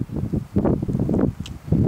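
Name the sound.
wind on a mountain peak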